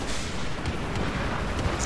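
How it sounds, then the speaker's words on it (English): Automatic cannon fire from an LAV armored vehicle in the Battlefield 4 game, a dense continuous barrage of booming shots close by, filling the whole moment with no pause. "LAV is shooting me."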